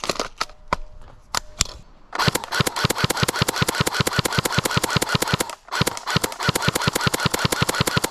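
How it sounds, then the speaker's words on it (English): An airsoft CQB submachine gun fires on semi-automatic: a few spaced shots, then a long run of rapid, evenly timed sharp cracks with a brief pause, loud and close. "let's see how fast this guy will shoot on semi-automatic."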